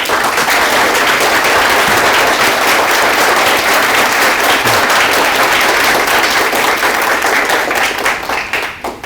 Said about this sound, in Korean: 뒤돌아서서 크게 박수 쳐드려.